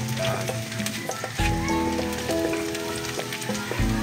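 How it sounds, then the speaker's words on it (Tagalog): Garlic sautés in a pan until golden brown, a loud, continuous sizzle with short bursts of stirring. Background music runs underneath. "Okay guys, lagyan na tayo ng bawang. Gigisa na tayo."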